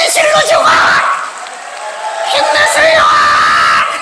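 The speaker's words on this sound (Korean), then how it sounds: "우리 회장님이 이 연합회를 잘 감당하실 수 있도록 박수 좀 치고 소리 질러." A church hall crowd at a Christian elders' association event erupts in loud cheering, whoops and yells, the shouting dipping briefly in the middle before surging back strong and close.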